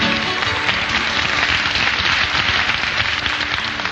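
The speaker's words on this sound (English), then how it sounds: "That ruins the dramatic effect when you applaud." A large audience applauds steadily at a 1964 Swarthmore College folk concert broadcast, a dense, even wash of clapping that fills the whole stretch without letting up, with no voices over it.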